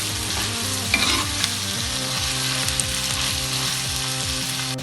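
Onions and potatoes sautéing in oil in a pan for a Tamil prawn curry, a loud continuous sizzle and crackle with a few scrapes and stirring knocks, no talking.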